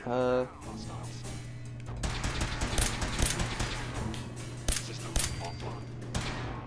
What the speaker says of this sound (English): I'm just shooting the wall now